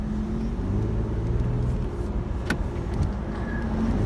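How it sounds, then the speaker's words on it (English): A 2011 Infiniti G37 S convertible driving along with a steady, deep exhaust drone and road rumble heard from inside the car, holding even throughout. "got a great sounding exhaust"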